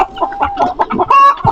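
A native chicken hen clucks nearby on a small farm, giving a string of short, rhythmic clucks that rise into a louder drawn-out cackle near the end, clear and close with no talk.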